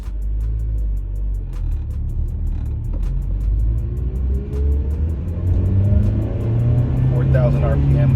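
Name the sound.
Honda Civic engine revving to 4,000 RPM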